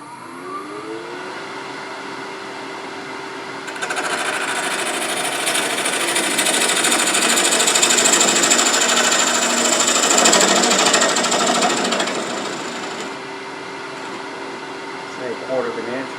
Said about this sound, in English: I'm going to use a small bowl gouge